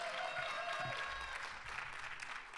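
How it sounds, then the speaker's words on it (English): Audience applause at an LGBTQ+ caucus event: a steady, dense wash of many hands clapping that fills the whole stretch at a modest, somewhat distant level, easing slightly toward the end. "Let's give them a round of applause."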